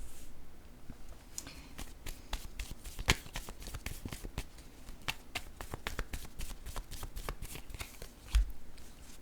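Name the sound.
tarot cards being shuffled and drawn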